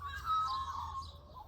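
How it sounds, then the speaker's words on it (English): Birds chirp outdoors in a brief burst of high tweets, fairly faint and distant over a low background hum. "I love the sound of birds."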